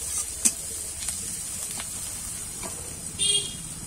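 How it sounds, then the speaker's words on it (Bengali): Onions frying in a pan until reddish brown, a quiet, steady sizzle and hiss with a few soft clicks and pops spread across the clip. "পেঁয়াজটা আমি একটু লাল লাল করে ভেজে নেব।"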